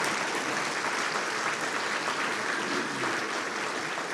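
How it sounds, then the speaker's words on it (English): Dense, steady audience applause fills a Hearts & Heroes 2025 event hall, many hands clapping at once in an even, sustained wash with no voices rising above it. "if y'all would give these men a round of applause,"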